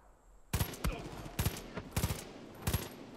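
Rapid gunfire from a Far Cry 5 firefight ends in a headshot, with sharp, loud shots coming in short bursts of one to three and brief gaps between them.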